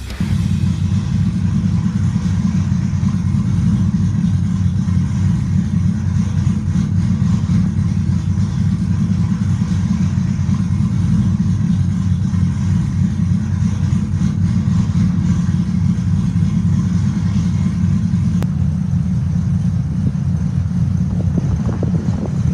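An LS-swapped Chevy S10 idles steadily with a deep, even rumble held close and loud throughout, and no one speaks over it.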